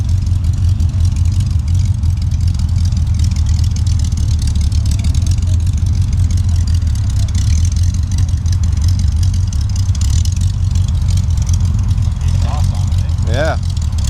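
A Willys Jeep idles loudly and steadily nearby with a constant low rumble, while people talk over it.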